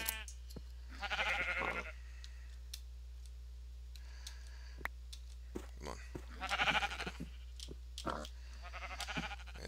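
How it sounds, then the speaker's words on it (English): Sheep bleat in the Minecraft video game, two wavering bleats a few seconds apart over quiet clicks and a low steady hum, with a brief spoken remark. "So found myself some sheep"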